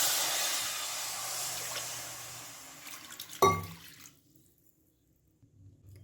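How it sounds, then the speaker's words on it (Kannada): Water is poured from a glass into a kadai on a stove to start sugar syrup for rasgulla. A steady, close splashing stream tapers off, then ends with a short clunk, followed by near silence. "ಅದಕ್ಕೆ ನಾನು ಈ ಲೋಟದಲ್ಲಿ 5 ಲೋಟದಷ್ಟು ನೀರನ್ನು ಹಾಕ್ಕೊಳ್ತಾ ಇದ್ದೀನಿ."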